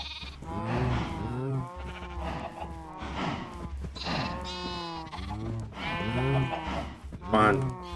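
Sheep in a farming video game bleat repeatedly in short wavering cries spread across the clip, close and fairly loud with a low game hum underneath.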